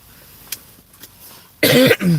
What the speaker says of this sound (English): I still have a little bit of a cough and some phlegm on my chest